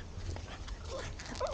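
A dog whimpers and yips excitedly indoors at a Christmas gathering as a bottle of champagne is opened, with short high whines over a low background murmur.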